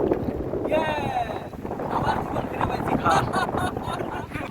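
A small boat on the water during a trip in Feni, with wind buffeting the microphone and a continuous rumbling wash under loud, nearby conversation.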